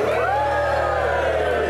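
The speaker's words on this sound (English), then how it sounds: "everybody starts to wave and scream and applaud" Conference audience cheering, whooping and screaming at an opening event in Gothenburg, a loud, dense crowd roar with bright overlapping shouts holding steady throughout.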